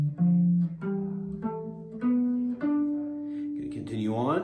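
A guitar plays single notes one after another in a rising scale run, ending with a bent note, with no talking.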